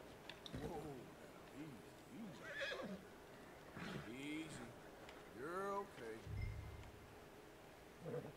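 A horse whinnies several times in Red Dead Redemption 2, with nickering neighs spread across the clip and a few soft hoof sounds, slightly processed like game audio.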